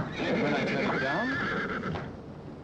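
Horses neigh and whinny close by, with a shrill rising call over the sound of hooves clip-clopping, while a voice talks over part of it during a short radio drama scene.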